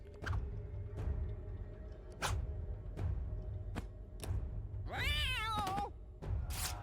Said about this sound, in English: Oh boy, that sound effect. Oh, because I'm throwing a cat.